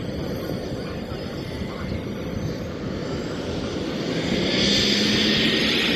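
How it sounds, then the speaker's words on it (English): Model aircraft flying at an outdoor model air show, an engine droning steadily at a distance and growing slightly louder toward the end, with faint crowd and wind noise. "It's a strange looking aircraft, very long nose on it."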